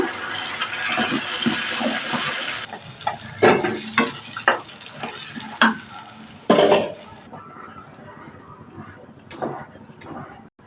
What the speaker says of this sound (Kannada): ನೋಡಿ ರುಬ್ಬಿರೋದು ಪಾಲಕ್ ಹಾಕ್ತಾ ಇದ್ದೀನಿ.